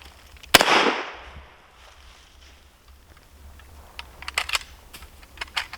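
One loud, close gunshot from an M1A1 .30 carbine rifle fired at pop bottles outdoors cracks out and decays briefly. A few fainter clicks and rattles of handling follow.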